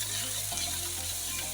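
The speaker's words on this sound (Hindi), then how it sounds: "तो प्याज को भी हम ब्राउन करेंगे।" Chopped onions sizzle steadily in a hot pan as they brown for a bhindi masala okra dish, a dense, even frying hiss running throughout with no talk.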